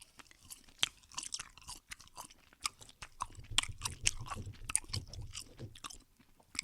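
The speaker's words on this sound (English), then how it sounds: "let me just start with this gum. This is extra spearmint gum, I believe." Close, wet chewing of Extra spearmint gum, with irregular smacks and soft crunching clicks repeating steadily, heard alone without talk.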